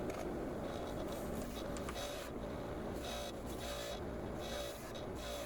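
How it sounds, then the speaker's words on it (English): A large buffing wheel polishes a tanto-style knife blade made from a Chevy bearing hub, giving a steady, loud machine whir with a continuous broadband grinding hiss that holds constant throughout. "There's a big buffing wheel."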